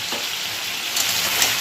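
Black pepper and chili paste hit a hot cooking pan for hilsa fish, giving a loud steady sizzle with brief sharper spits, no one speaking.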